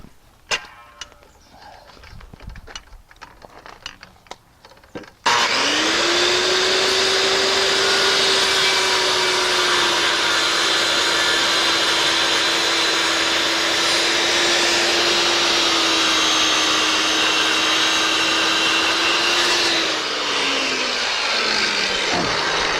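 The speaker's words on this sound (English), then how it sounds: "Now we're just going to cut that piece out." Circular saw cutting a notch out of a wooden roof rafter, blade set to 1.5 inches depth: after a few seconds of handling clatter, a loud steady whine holds for about fifteen seconds, then winds down as the cut finishes.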